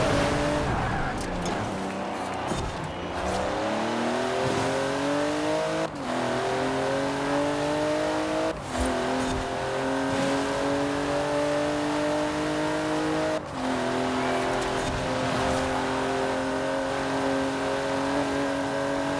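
A GMC Typhoon in the racing game Forza Horizon 4 revs hard through repeated gear shifts, its engine note climbing and dropping several times with brief cuts between gears, loud and continuous, with faint tire noise.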